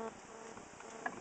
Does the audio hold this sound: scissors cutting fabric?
no